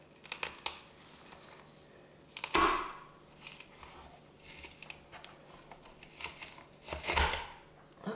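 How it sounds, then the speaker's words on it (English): A manual onion chopper pressed down on an onion, giving a few irregular crunchy chopping thumps, two of them louder, against quiet handling noise at close range with no talking. "let's give this a try and see if it'll chop this onion"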